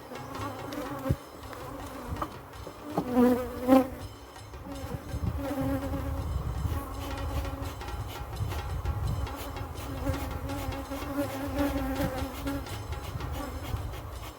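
A honey bee colony at an open hive buzzes in a steady, faint swarm drone with individual bees passing close, plus a few soft knocks and handling sounds around frames.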